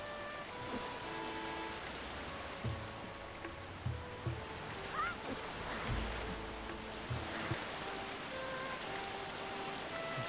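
Waterfall water rushing in The Legend of Zelda: The Wind Waker, a continuous broad roar of falling water with soft splashy texture and a few faint game tones layered beneath.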